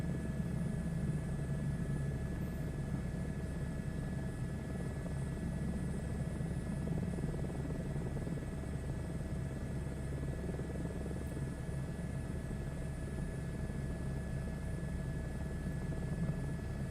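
A helicopter cruises at speed in steady flight, its rotor and engine making a continuous, even, droning hum from inside the cabin with no speech.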